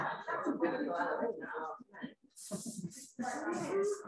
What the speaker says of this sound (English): And then bit of spray.